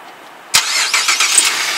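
A 2010 Chevrolet Equinox LTZ engine starts by remote start: an abrupt loud crank and catch, then a steady idle, with no voices.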